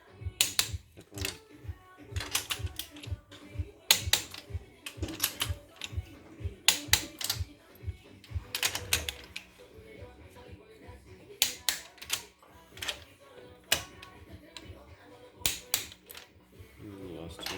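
Torque wrench clicking as an RB25 cylinder head's bolts are tightened in stages to 80 foot-pounds, giving sharp, close clicks in irregular bursts, with talking in between.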